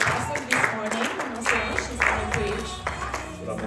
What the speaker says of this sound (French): Nous allons appeler avec des applaudissements.